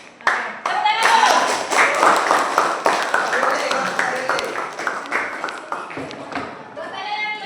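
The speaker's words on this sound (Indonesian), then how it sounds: "Tepuk tangan dulu" A classroom of students clapping after a salt-and-ice freezing-point experiment, a burst of brisk applause that rises quickly, then tapers with scattered claps and some voices.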